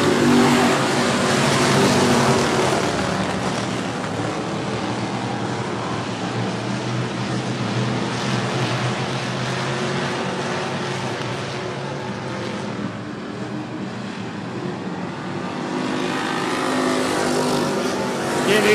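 Race cars at 105 Speedway pack together after the green flag, their engines forming a dense, continuous roar that holds steady and loud throughout, swelling slightly at the start and end.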